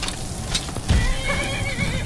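A horse whinnies in the video game Skyrim, a short neigh with a low snorting burst in the middle over a dense game background, and no talking.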